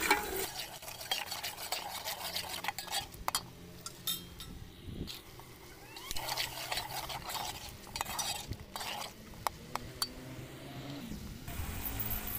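Biryani masala with turmeric and red chili gets stirred in a pot, a spoon scraping and clinking against the metal in quick irregular bursts over a faint sizzle, with no talking.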